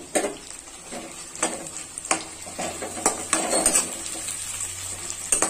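Tomatoes sizzle and fry in a pan while a utensil stirs them, scraping and clinking against the metal in irregular bursts over a steady hiss, close by with no talk.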